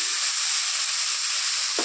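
Okra sizzling steadily in a pan of hot oil for a vegetarian meal, a continuous close, even hiss with a faint stir or clatter right at the end.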